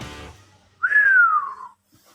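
A single clear whistled note slides gently downward, lasting under a second, close and distinct after a brief murmur.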